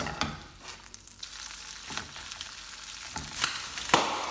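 Mushrooms, bacon and broccoli fry for a five-egg omelet, a steady close sizzle with several sharp clicks and scrapes of a utensil against the pan.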